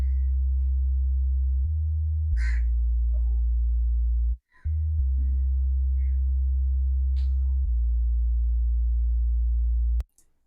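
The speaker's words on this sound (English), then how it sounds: "It is bass from Nexus 2." Synth bass from the Nexus 2 plugin in FL Studio for a zouk kizomba instrumental, a deep sustained tone holding long notes with brief gaps and changes, plus faint higher blips above it, steady and loud.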